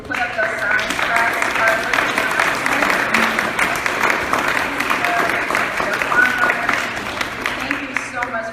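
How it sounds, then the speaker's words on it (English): Steady, fairly loud applause from a crowd at a Muslim Capitol Day press conference in Florida, with voices and cheering mixed into the clapping throughout. "I think we should all give a huge round of applause for our representatives who put up those signs for us"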